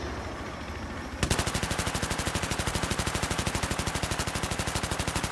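Rapid automatic gunfire in the video game Battlefield 3 starts abruptly after a second of ambient game noise and keeps up a fast, even burst of loud shots to the end.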